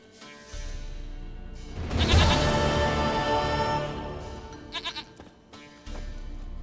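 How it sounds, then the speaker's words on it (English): A goat in The Witcher 3 bleats in a couple of loud, wavering calls over a low game ambience, with a few fainter bleats trailing off afterward. "Goat of mine, dearest, sweetest goat."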